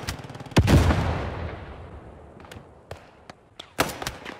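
Gewehr 43 semi-automatic rifle fired in the WWII game Post Scriptum, a loud close crack with a long echoing tail, then scattered sharper shots in quick succession, some distant.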